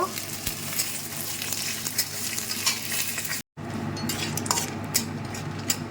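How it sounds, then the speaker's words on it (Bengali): Peanuts fry in ghee in a pan, giving a steady close sizzle with a spoon stirring and scraping throughout, a brief cut of silence midway, then the frying and stirring carry on. "বাদামগুলো ভেজে নিলাম কিছুটা ঘিয়েতে"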